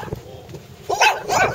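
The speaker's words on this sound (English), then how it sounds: "We've got a dog over there barking, aren't we?" A dog barks a few times at a distance in the dry northern Peruvian desert, two or three short yelps over faint outdoor background noise.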